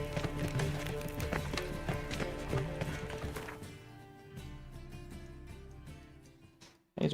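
Roach, Geralt's horse in The Witcher 3, gallops with rapid, rhythmic hoofbeats that grow quieter and fade out, followed by a brief loud burst at the very end.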